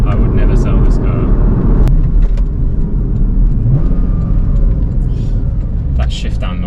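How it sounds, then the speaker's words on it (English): A Porsche Cayman S engine rumbles low and steady while driving, with a sharp blip near the start that fits a downshift, under faint road noise and no clear talk. "That shift down noise is hard to beat as well."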